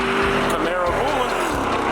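A Chevrolet Camaro revs and pulls away hard at a street car meet in Mexico, its engine note rising through gears with a brief tire squeal, loud and close, while people talk nearby.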